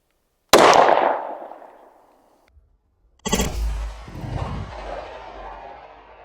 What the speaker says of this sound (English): Okay, 9mm into a level 3A vest.